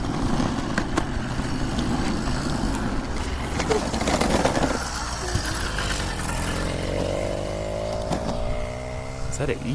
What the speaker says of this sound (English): Sounds like a dirt bike.